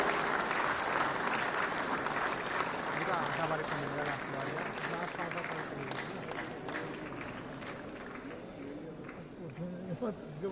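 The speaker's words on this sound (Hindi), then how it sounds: "इसे जोरदार तालियां" Sustained audience applause at the 68th National Film Awards ceremony, a dense, continuous clatter of many hands in a large hall that tapers slightly toward the end, with a voice speaking over it.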